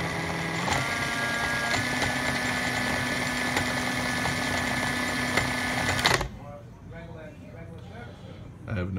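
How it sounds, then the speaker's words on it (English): A Denzel 4-speed electric gearbox driven by a 36 V Kelly controller spins with a steady, loud mechanical whine and hum for about six seconds, then cuts off abruptly and a voice speaks. "now it's spinning the correct direction."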